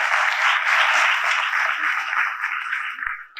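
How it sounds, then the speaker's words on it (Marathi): Loud, steady applause for teachers at a student felicitation ceremony at a coaching academy, dense clapping from a crowd that holds for several seconds before tapering slightly at the end. "पुन्हा एकदा आमच्या सर्व शिक्षकांसाठी जोरात टाळ्या वाजवा."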